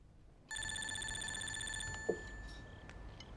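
A telephone rings in a quiet room at night, one sustained electronic ring starting abruptly and cutting off, followed by a soft click as it is picked up, close and moderately loud.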